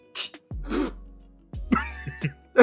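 A player sneezes during a tabletop role-playing game session, giving a couple of sharp, breathy bursts close to the microphone, with brief voiced sounds in between.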